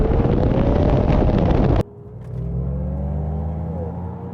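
V12 Aston Martin accelerating hard in a drag race against an MG Cyberster, a loud roaring engine note cut off abruptly into a lower, steadier whir with wind rush.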